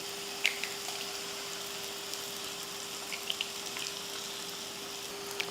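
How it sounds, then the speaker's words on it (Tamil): Beaten eggs poured into a pan of sizzling onion-tomato masala for an egg bhurji, giving a steady soft frying crackle with a few small pops and a faint constant hum, no voices. "இந்த டைமில் நம்ம இதில் முட்டை ஊற்றிடலாம்"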